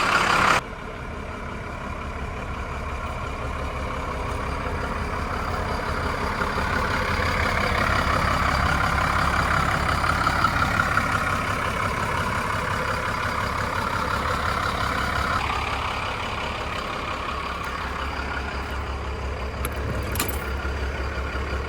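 A Cummins diesel engine with 39,000 miles idles in a motorhome just after starting. A loud burst at the start settles into a steady, close, rumbling drone that runs on evenly without talk.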